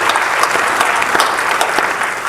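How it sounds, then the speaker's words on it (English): Dense, steady applause from an audience at a mayoral forum in Anchorage, filling the room evenly for a couple of seconds with no voice over it. "Give yourselves a big round of applause for being here"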